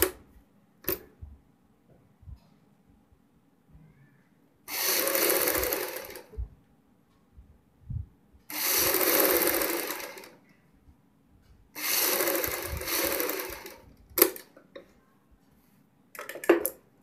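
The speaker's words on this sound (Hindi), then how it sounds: "ये मैंने यहाँ पे दूसरी पट्टी की सिलाई लगाई है।" Sewing machine stitching a second fabric strip onto a kurti neckline, running in three separate bursts of steady whirring with quiet pauses and small clicks of handling between them.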